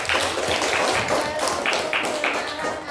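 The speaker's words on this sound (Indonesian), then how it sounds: "kita beri tepuk tangan ya" Students in a classroom clap together, a loud, somewhat rhythmic patter of close hand claps with a few accented beats, filling the room briefly with some voices mixed in.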